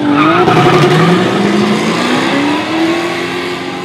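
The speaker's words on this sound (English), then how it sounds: "V8 muscle lighting up tires, getting sideways all the way down past the 60 foot towards the 400 meter." V8 muscle car at a drag strip, tires spinning and squealing as it slides sideways down the quarter-mile: loud, continuous engine roar with rising squeal tones throughout, no voices.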